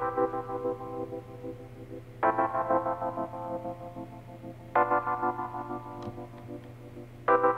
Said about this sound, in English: it is just the Rhodes, and it goes like this.